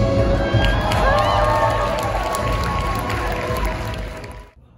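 A large audience cheers loudly and steadily. The sound is a dense crowd roar with shouts that holds for several seconds, then fades and cuts out at the end.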